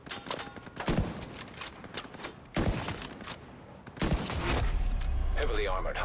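Video game gunfire rattles in loud, close bursts of rapid shots, separated by short pauses, with a voice talking over the firing.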